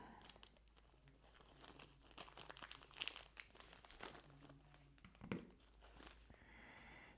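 A plastic package for an o-ring kit being pried open, giving repeated close crinkling and tearing bursts with brief crunchy rustles, quiet and irregular.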